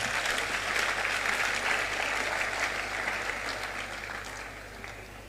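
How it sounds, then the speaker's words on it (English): An audience at a leadership and entrepreneurship talk by Kennedy Agyapong claps for themselves, a full, continuous round of applause that stays even for several seconds and then gradually thins, with a low hum underneath. "Clap for yourself."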